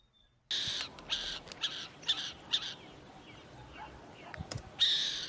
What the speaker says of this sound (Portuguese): essa é a coruja buraqueira, que é uma das corujas mais famosas do Rio Grande do Sul